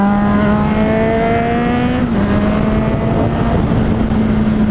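A Kawasaki Z800e motorcycle engine drones loudly and close, its tone holding steady and rising slightly as it pulls out of a corner over constant wind rush.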